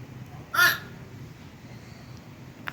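A single crow caw, one short loud burst early on, then only faint household background.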